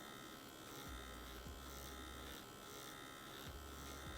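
A tattoo machine buzzes steadily and close while stipple shading, its needle hum continuous and loud, with periodic dips and shifts in the low drone as the needle taps in and out.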